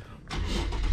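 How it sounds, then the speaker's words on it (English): A car engine starts: a short quiet lead-in, then a broad rising burst as it catches, settling into a steady close idle that grows louder at the very end. "So what I do is I start the car up."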